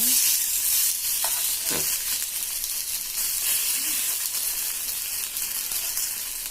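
Potato slices fry in a pan with a steady, loud sizzle and crackle throughout, joined by occasional stirring scrapes, made as crispy chips with little oil.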